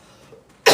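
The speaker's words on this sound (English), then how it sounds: "My cough's getting so bad." One sharp, close cough bursts out after near silence, loud and abrupt at the very end, from a person whose cough has been worsening.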